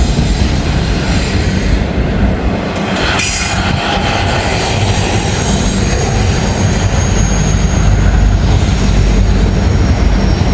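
A freight train with double DPU locomotives rolls past loud and close, wheels rumbling and clattering with a sustained roar and a brief squeal, unbroken for the whole stretch.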